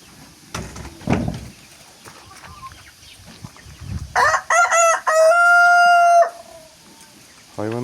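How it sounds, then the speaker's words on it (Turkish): A young rooster crows loudly and close by, a long drawn-out call ending in a sustained note, preceded by scattered clucks and soft rustling in a backyard poultry coop. "İki horoz var."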